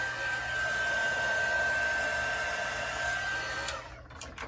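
A heat gun blows steadily on an epoxy-coated cup during alcohol ink work, giving a continuous close airy whir with a faint whine, then cutting off near the end with a few small clicks.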